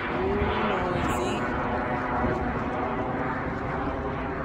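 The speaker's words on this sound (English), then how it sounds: "there's a airplane in the sky. You could hear. It's really noisy." Steady, loud broadband roar of an airplane passing overhead outdoors on a hilltop near a flower field, continuous throughout with a faint rumble underneath and no voices.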